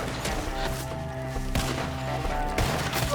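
Gunshots crack repeatedly in a Red Dead Redemption 2 gunfight, several sharp reports spaced over a steady bed of tense orchestral music, with no other sound breaking through.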